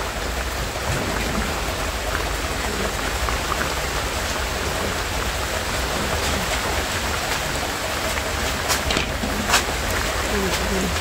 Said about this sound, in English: Just imagine in a rain like this here,